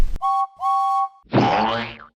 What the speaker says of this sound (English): heard an engine whistling